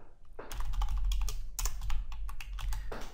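Fingers typing a filename on a computer keyboard, a quick run of close, crisp key clicks over a low hum, with no talk.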